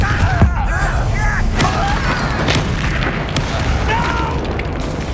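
A Confringo fire spell explodes in the Hogwarts Legacy video game, a loud booming burst near the start followed by sustained rumbling and crackling, with a spoken voice over the game sounds.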